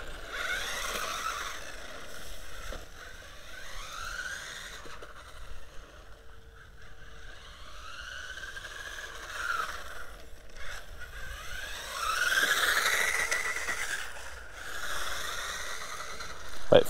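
A Pinecone UDIRC 1605 Pro 1/16-scale mini RC car driven flat out, its electric motor giving a steady whining buzz that rises and falls in pitch as it speeds along, fairly close and continuous, with no voices.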